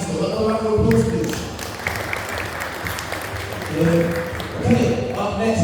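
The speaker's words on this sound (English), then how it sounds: "Another round of applause," Applause from a concert audience fills the space, a steady wash of clapping with voices speaking over it near the start and end.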